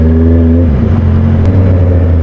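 Honda CBR650R (2023) motorcycle engine and exhaust, a loud, close, continuous throaty rumble with a slight shift in pitch partway through, heard alone.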